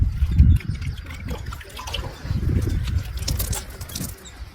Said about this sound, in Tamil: இது என்ன பண்ணணும்னா, தண்ணியில அலசணும்.